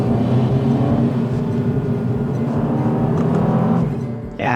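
Petrol engine of a 2025 MINI JCW F66 on winding roads, a steady close drone that rumbles low and then drops away near the end.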